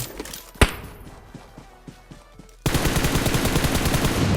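Gunfire in the mobile battle royale PUBG Mobile: a sharp single shot, a string of lighter pops, then a dense, loud automatic burst that continues rapidly to the end.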